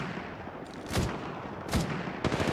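Gunfire in the Apex Legends Mobile battle royale game: a few sharp, loud shots at irregular intervals over a noisy background, with no talk.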